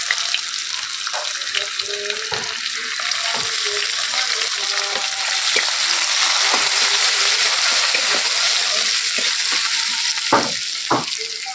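Chopped garlic fries in hot oil with nigella seeds and dried chilli, a steady close sizzle with brief scraping stirs and a few sharp pops from the pan, no talk.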